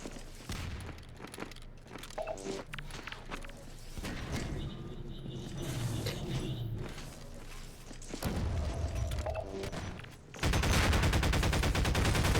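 Automatic AR2 rifle fire in a Half-Life 2 Deathmatch match, loud bursts and rapid rattling shots layered with game explosions and thuds, building to a dense sustained volley at the end.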